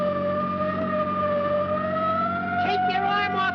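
A steady, loud wailing siren on a police plane in a classic comedy film, held continuously with a rising tone throughout, with a voice briefly breaking in near the end.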